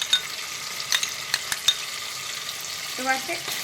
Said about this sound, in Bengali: এবারে এই মশলাটা আমি ভালো করে কষিয়ে নেব